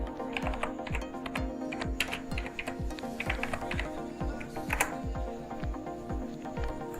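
Fingers type on a computer keyboard, a quick irregular run of sharp key clicks close by, steady and fairly loud with no speech over them.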